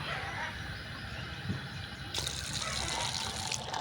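Water gushes steadily from a pipe in a noisy, continuous flow that grows brighter and louder partway through.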